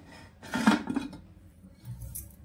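A metal pot lid clanks as it is lifted off a pot on a gas stove after a cake bakes inside, a brief near rattle followed by quiet.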